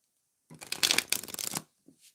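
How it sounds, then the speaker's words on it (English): Tarot cards being shuffled in a steady riffling burst of about a second, close and fairly loud, followed by a couple of faint soft taps. "So I'm shuffling the cards for Shirley."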